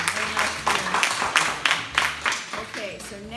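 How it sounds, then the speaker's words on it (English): Members at an annual general meeting applaud, with a steady, moderately loud patter of claps and voices overlapping during a short burst. "Maybe we should applaud them."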